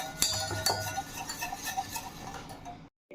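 Beaten egg with chili powder and salt stirred in a bowl, a utensil clinking and tapping against the bowl's sides in quick irregular strikes, close, stopping abruptly near the end.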